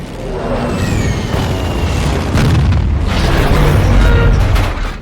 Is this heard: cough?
no